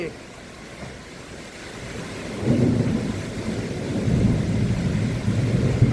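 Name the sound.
heavy rain and strong wind storm at night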